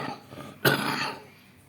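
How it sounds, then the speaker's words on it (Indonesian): A single sharp cough or throat-clear bursts out close by, followed by a brief fading rasp, with nothing else around it. "Mohon maaf batuk."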